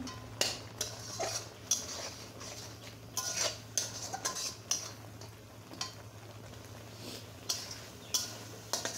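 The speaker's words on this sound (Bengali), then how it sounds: "আমি এখন সুন্দর মতো মশলাটাকে কষিয়ে নেব" Spice paste sautéed in a pan with potato, eggplant and drumsticks, a quiet series of irregular metallic clinks and scrapes from a spatula against the pan over a faint low hum, with no talking.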